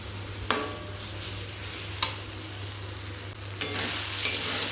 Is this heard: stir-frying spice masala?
yes